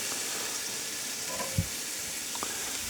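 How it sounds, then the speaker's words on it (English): Lamb koftas sizzle steadily in a hot pan as they are turned onto their sides, a dense close frying hiss with a soft knock from the spatula midway, no talk. "I want to turn the koftas so they're on their side. Make sure they're sealed all the way in."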